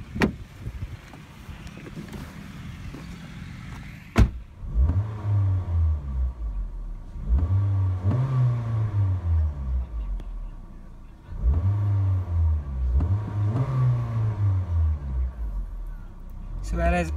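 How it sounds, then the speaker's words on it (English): A 2017 Honda Jazz VX 1.5 CVT engine revved in repeated bursts while parked, each swell rising and falling back to idle, running into a rev limiter around 4,000 RPM; loud and close. "Let's give it a few revs and check how the engine sounds."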